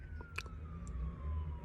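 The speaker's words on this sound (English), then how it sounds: "I intentionally started the video even though there were sirens going by." A siren passes in the distance, its faint tone sliding slowly down in pitch as it moves away, over low rumbling background noise and a few short nearby clicks.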